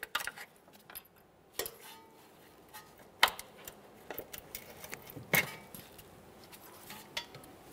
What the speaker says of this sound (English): I'm just going to pry them out of place